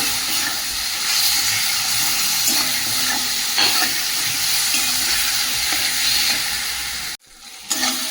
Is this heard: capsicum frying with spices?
yes